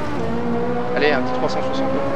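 A Ferrari 458 Italia in Assetto Corsa revs hard with its engine note rising and falling through a spin, tire squeal flaring midway and a few brief bursts after, while someone talks over it.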